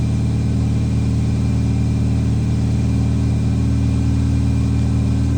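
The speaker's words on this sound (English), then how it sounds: "Engine's warming up." A 2001 Chevy Prizm with a 1ZZ-FE engine and a missing downstream O2 sensor idles while warming up, giving a loud, steady, even hum with a constant low rumble throughout and no talking.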